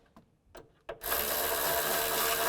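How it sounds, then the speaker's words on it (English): A ratchet or power tool tightens the retainer bolts on a 2005-2010 Chevrolet Cobalt clutch master cylinder, starting with a few short bursts then running steadily and loudly up close. "then we'll tighten those bolts down"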